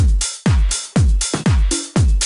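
Clap drum track in Logic sounding as a loud, steady loop of sharp hits roughly every half second, each layered over a deep decaying thump, with no voices.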